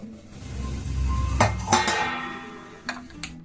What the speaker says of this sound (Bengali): দেখুন এইভাবে সিমইগুলোকে আমি ভেজে নিয়েছি